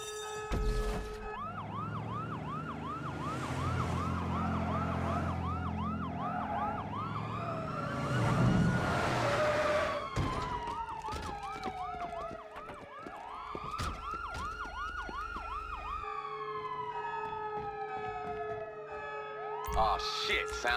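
Police sirens wail during a heist in the video game GTA V, with repeated yelping cycles and long sweeping tones overlapping, loud and close at first, then shifting and fading as more units join.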